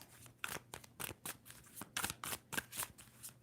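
Tarot cards are shuffled in quick, crisp riffles, about a dozen soft slaps in an uneven rhythm, faint and close with no voice over them.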